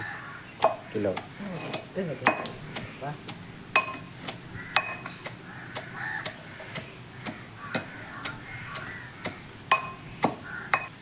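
Coconut pieces pounded in a mortar in a home kitchen, giving a steady run of sharp, hard knocks at a loose, uneven rhythm, fairly close and moderately quiet, with faint clinks between strikes.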